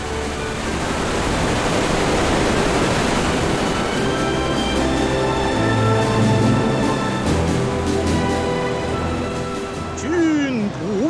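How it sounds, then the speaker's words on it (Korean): Hukou Waterfall on the Yellow River roars loud and close as a steady, continuous wash of falling water. It holds without any break, and a sweeping tone shows up near the end. "호구 폭포입니다."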